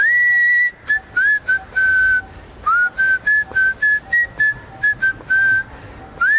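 A whistling champion whistles a tune from the Marathi film Dhadakebaaz using the palate: clear, close, high melodic notes in short phrases, alone with no talk.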